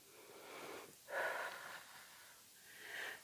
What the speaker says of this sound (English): So we're breathing.